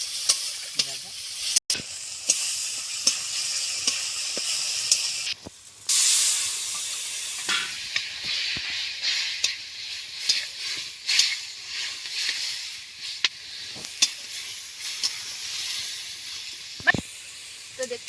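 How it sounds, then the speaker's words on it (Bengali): Chili and turmeric gravy for a rupchanda fish curry bubbling and sizzling in a pan, a steady hiss with stirring scrapes and small pops throughout, close and fairly loud, no talking. "তো দেখতে পাচ্ছ বন্ধুরা ঝোলটা ফুটে এসছে।"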